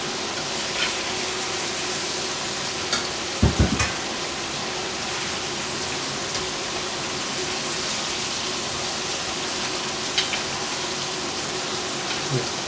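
Pork pieces deep frying in hot oil for Cantonese sweet and sour pork, giving a steady, dense hiss and crackle throughout, with a few brief clatters partway through as pieces are moved.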